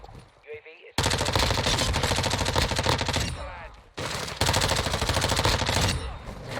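Rapid automatic gunfire rattles in long, loud bursts in a Modern Warfare II match against bots, two sustained volleys split by a brief pause, with speech heard at the start and in the gap.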